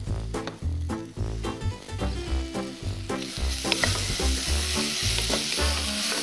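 Tomatoes and persimmons sizzling and frying in a pan, a steady hiss with repeated rhythmic scraping strokes of a utensil stirring, close up, with soft music underneath.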